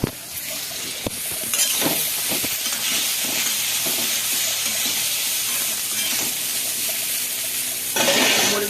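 Lentil dumplings (bori) fry in a pan with a loud, steady sizzle and hiss that continues unbroken, with occasional stirring scrapes and a brief surge near the end.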